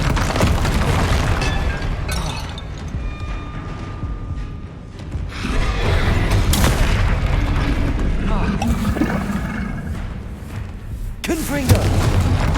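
Spell blasts from Confringo and Bombarda in Hogwarts Legacy, a run of loud, booming explosions and bursts that come in waves over dense game action, with a sharp crack near the end.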